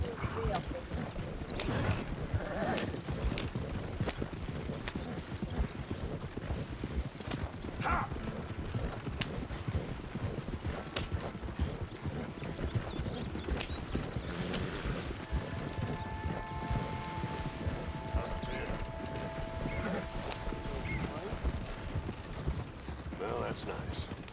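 A horse's hooves clip-clop steadily in the video game Red Dead Redemption 2. The trotting rhythm runs continuously under game ambience and voices talking over it.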